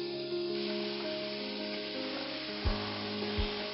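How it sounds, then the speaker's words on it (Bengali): Homemade tomato sauce with vinegar boils in a pan, giving a steady, close bubbling sizzle with a couple of soft, heavier pops near the end. "দেখুন, মোটা মোটা বলক উঠতে শুরু করেছে।"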